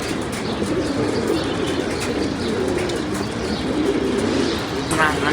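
Racing pigeons return and settle at their home loft, soft cooing and fluttering wings mixing with chirps, while someone talks over the birds throughout.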